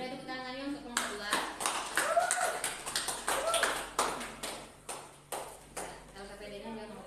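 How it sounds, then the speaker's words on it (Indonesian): Classroom applause for a student presentation group, a short burst of many hands clapping that thins into a few scattered, separate claps, with a voice audible at the start. "Boleh tepuk tangannya untuk kelompok 2."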